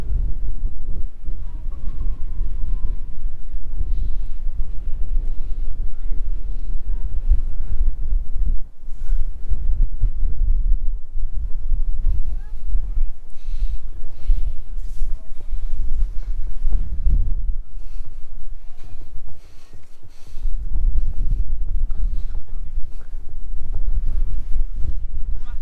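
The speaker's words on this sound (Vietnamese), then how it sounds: "ở trên này gió rất là nhiều cho nên nó làm cho mình lạnh" Strong wind buffets the microphone on the exposed coast at Skagen, Denmark, a loud continuous roar with gusty surges and dips throughout, while a voice talks faintly at times.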